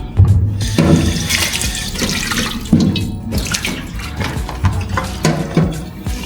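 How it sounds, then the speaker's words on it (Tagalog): A very dirty frying pan (kawali) scrubbed under running water, with loud continuous splashing and gushing from the tap, occasional scraping surges, and no talking. "Hugasan din natin tong kawali na napakarumi."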